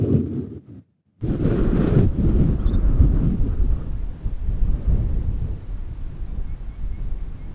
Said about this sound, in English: It's too windy out here